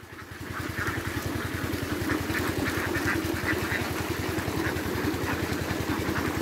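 A huge flock of about 6,000 field ducks quacks in busy bursts while being fed rice grain, under the close, steady throbbing of an idling engine that runs throughout.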